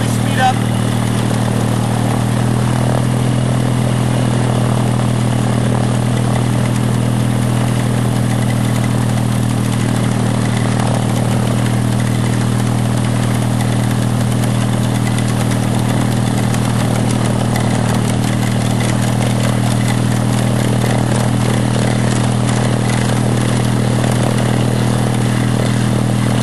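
Autogiro helicopter engine running steadily and loud nearby, a constant droning hum with a slight clattering edge that holds level throughout with no clear rise in pitch.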